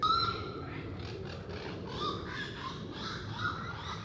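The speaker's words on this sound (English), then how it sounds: "Fucking noisy birds, I tell you." Crows caw repeatedly from a moderate distance at a camp in the woods, harsh calls recurring over steady outdoor background noise, with no one speaking.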